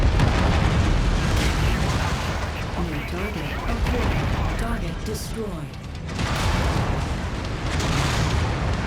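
A destroyed mech exploding in the MechWarrior 5 Mercenaries video game: heavy booming blasts and rumbling detonations roll on continuously amid battle noise, loud throughout with a brief dip before swelling again, with a voice talking over it.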